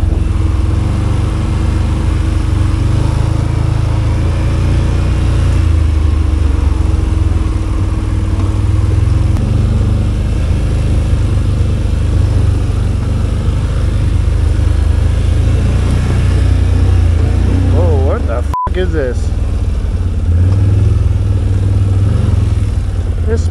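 2023 Can-Am Outlander ATV engine on a trail near Kearney, Ontario, a loud, steady close-up drone with small shifts in throttle, continuous for over twenty seconds with wind and trail noise.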